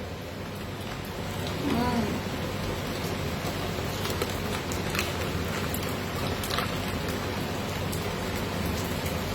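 Steady rain falls outside on a pleasant evening, a continuous broadband patter heard fairly close and even throughout, with a few brief louder spatters and no talking over it.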